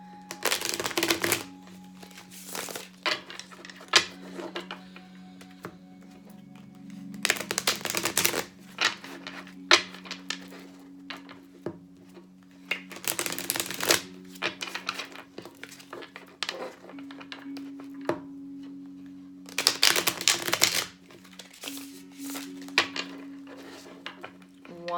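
Tarot cards being shuffled by hand in repeated crisp riffling bursts, close by, separated by short pauses over a steady low electrical hum, with no talking.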